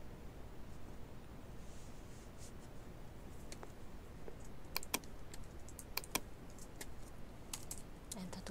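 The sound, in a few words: typing on a computer keyboard, pressing Enter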